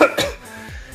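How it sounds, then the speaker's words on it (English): A person coughs while cooking with peppers, two quick harsh coughs close up followed by a fainter third, with a throat-clearing quality. "I can't stop coughing."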